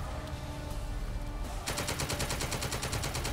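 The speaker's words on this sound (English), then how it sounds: "There's little 2-inch mortars." Small 2-inch mortars fire in The Troop, a war video game, as a dense run of rapid, evenly spaced blasts that sets in midway over a constant loud battle roar.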